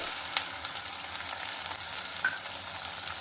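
Tomato puree sizzles and fries steadily in a hot pan for a drumstick curry with green chillies and curry leaves, a continuous close crackle with small pops and no voices.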